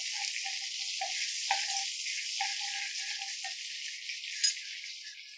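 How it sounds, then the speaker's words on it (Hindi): Cumin seeds sizzle steadily in melted butter in a pan, a loud continuous hiss with a few light taps of the stirring spoon. "बटर मेल्ट हो गया है, अब इसमें सबसे पहले हम डालेंगे जीरा"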